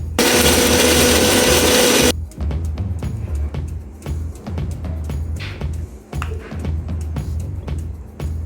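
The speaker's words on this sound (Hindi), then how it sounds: "हमने 1 केला लिया है जिसे अभी मैं मिक्सी में ग्राइंड करूंगी" An electric mixer grinder whirs loudly for about two seconds grinding a banana into paste, then cuts off, leaving quieter clatter and a low hum.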